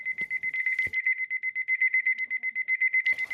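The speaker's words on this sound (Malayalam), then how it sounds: "ഈ അലാറം അങ്ങോട്ട് ഓഫ് ചെയ്യട്ടെ." An alarm clock ringing early in the morning at home, a loud close run of rapid repeated electronic beeps pulsing evenly, with faint rustling at the start and end.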